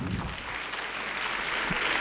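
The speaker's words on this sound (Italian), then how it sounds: "Vi chiedo un applauso per Maura Gangitano" An audience at a talk event applauds for a guest philosopher, a dense, fairly faint wash of clapping from a crowd that continues throughout.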